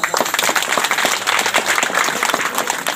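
A crowd at a gathering in Navadih, Mandar, Ranchi claps loudly and close, a thick continuous burst of applause filling the short moment.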